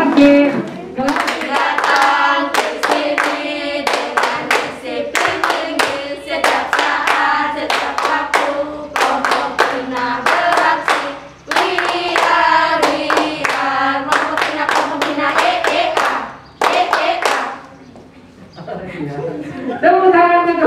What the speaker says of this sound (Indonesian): Oke, tepuk tangan luar biasa